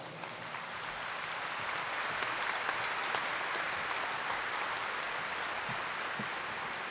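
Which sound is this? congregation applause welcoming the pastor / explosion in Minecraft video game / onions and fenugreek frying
congregation applause welcoming the pastor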